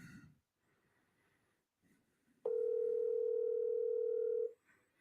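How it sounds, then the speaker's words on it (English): A steady telephone tone rings for about two seconds on an outgoing call, loud and continuous after a stretch of near silence and soft breathing. "There it is. The phone is ringing."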